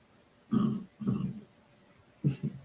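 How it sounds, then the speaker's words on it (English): A person burps after drinking Coca-Cola: three short, close burps, the first two spaced evenly and the last after a pause, in an otherwise quiet room. "sorry, I'm burping a little Coca-Cola."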